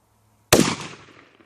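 One sharp, loud shot from a 300 Blackout AR rifle firing a 220-grain subsonic round at an outdoor range cracks suddenly, then decays quickly into a short echoing tail.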